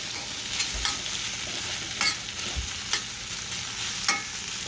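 Green peppers and onions fry in a pan with a steady close sizzle, broken every second or so by a spatula stir and scrape. Nobody speaks.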